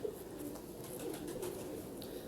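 Golden 222 breed pigeons give a soft, low continuous cooing, faint and partly buried in a hissy background.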